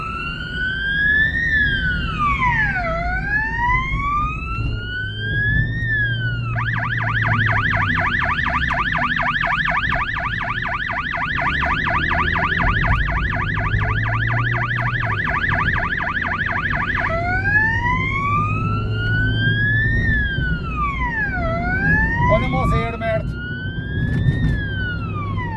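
A moving ambulance sounds its siren in slow rising-and-falling wails, breaks into a rapid warbling yelp for several seconds, then returns to the long sweeps, all over steady road and engine rumble with a voice speaking at times.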